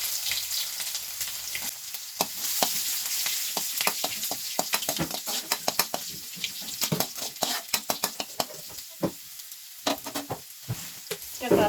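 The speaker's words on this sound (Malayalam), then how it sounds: "കടുക് പൊട്ട് നമുക്ക് വെളുത്തുള്ളി ഇഞ്ചി ഇടാം." Garlic and ginger fry in coconut oil after the mustard seeds have popped, a constant close sizzle for a Kerala fish curry, broken by sharp clicks and scrapes as the spoon stirs the pan.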